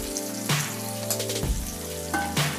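Pigeon meat and onions fry together in a pan, making a steady sizzle with occasional louder spatters and stirring clatter close by, with no talk.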